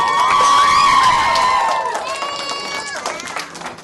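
A children's crowd cheers and shouts excitedly at a juggling show in a library, loud at first and then easing into scattered calls and chatter.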